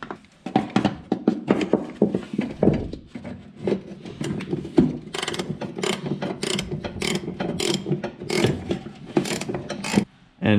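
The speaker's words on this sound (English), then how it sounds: "Now we put on our locking nuts and washers. 1 million spanner flips later." A spanner tightening locking nuts and washers onto a car's master cylinder: a long run of quick, uneven metallic ratcheting clicks and scrapes, close and fairly loud, with no talking.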